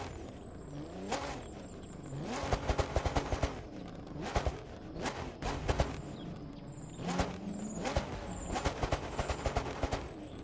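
A Mitsubishi FTO GP Version R in the racing game The Crew 2 revs hard. The engine climbs and drops in repeated bursts, loud and close, with no talking over it.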